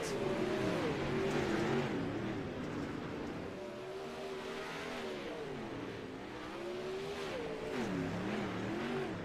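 Dirt track race cars run qualifying laps, their engines wailing and revving continuously as they rise and fall around the track, faint and distant with no talking.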